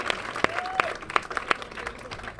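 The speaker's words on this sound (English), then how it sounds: "we probably should give another round of applause for that sledgehammer throw" A modest crowd at a community recreation center event claps with sharp, distinct hand claps standing out, moderately close, with a faint voice briefly audible under it.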